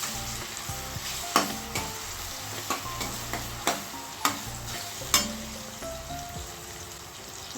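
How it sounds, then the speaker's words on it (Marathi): Chopped tomato and onion sauté in a pan with a constant sizzle, punctuated by sharp clinks of a spoon stirring against the metal at irregular intervals. "टोमॅटो हे आपल्याला छान मऊ होईपर्यंत चांगला परतून घ्यायचा आहे"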